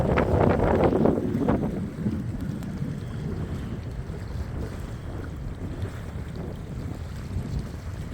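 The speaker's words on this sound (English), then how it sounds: "It is a windy, cool day." Gusty wind at Portage Glacier buffets the microphone in low rumbling bursts, strongest at the start, then a steadier blustery roar continues outdoors with no voices.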